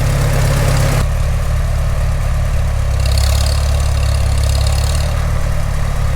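A Farmall Super M tractor engine runs in the snow at 18 degrees Fahrenheit, a loud, close, steady low chugging idle with a fast even beat throughout.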